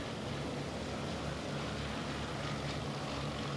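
Propeller engines of a Focke-Wulf 200 Condor aircraft in Microsoft Flight Simulator give a steady, loud, continuous drone with a low throb throughout, heard alone.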